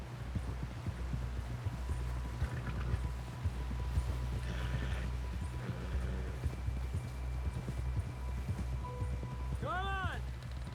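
Horse hooves from Red Dead Redemption 2 make a steady, quick clip-clop in the game, with a low engine-like rumble underneath and a brief tonal chirp near the end, moderately quiet with no clear voices.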